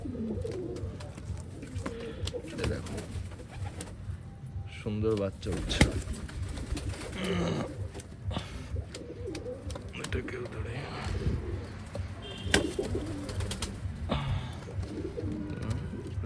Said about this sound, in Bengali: দারুণ গেট আপের পায়রা হচ্ছে তো বেশি ডিস্টার্ব করবো না দিয়ে দিই ঘরে এদের